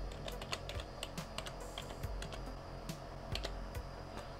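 Steady typing on a computer keyboard while entering a network address at a Linux server command line, with many quick, irregular key clicks throughout and no talk.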